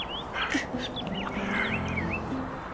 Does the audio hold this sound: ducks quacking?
yes